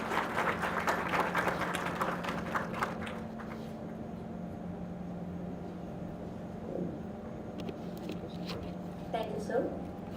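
An audience at an HR conclave at a business school claps in a burst of applause that fades after a few seconds, then a quiet hall murmur and faint scattered sounds follow.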